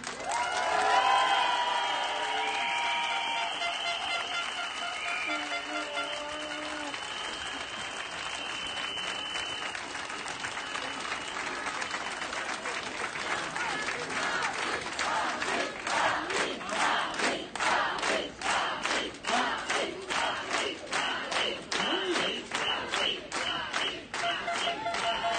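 Crowd at a healthcare providers' street demonstration applauding, starting with cheers and shouts, then settling into a loud, rhythmic unison clapping that carries on steadily to the end.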